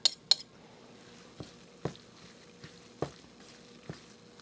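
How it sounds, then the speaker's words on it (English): Sausage being mixed with a ricotta, egg and breadcrumb filling in a bowl, heard as a few soft, scattered utensil knocks and scrapes, with two sharper clinks at the start, quiet and close. "I've got the ricotta, egg, and breadcrumb mixture, and I'm going to put that in, mix it together."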